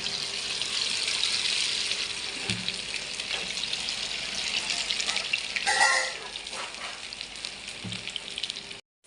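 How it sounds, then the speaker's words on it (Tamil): Marinated chicken pieces deep-fry in hot oil for restaurant-style chicken Manchurian, a loud dense crackling sizzle that holds steady, with a brief burst of bubbling near the end and a few faint knocks, no speech. "இப்போ நல்லா ஆயில் காஞ்சிடுச்சு இதில் நம்ம எடுத்து பொறிச்சு எடுத்துக்கலாம்"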